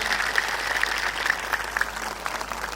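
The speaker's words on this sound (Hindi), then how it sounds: "तो एक बार जोरदार तालियों से जयकारा हो जाए" Crowd of listeners clapping at a Hindi satsang gathering in Ellenabad, steady moderately distant applause with a faint cheer beneath, continuous throughout.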